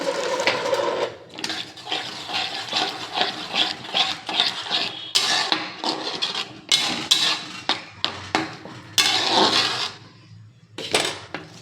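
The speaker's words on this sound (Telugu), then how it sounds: "ఆ కందిపప్పు మెయిన్ ఇంగ్రీడియంట్ ఇది వేసేద్దాం." Cooked toor dal tipped into a pot of capsicum sambar, then stirred with a metal spoon: repeated wet sloshing and scraping strokes against the pot, close and fairly loud, in irregular bursts with short pauses, no talking.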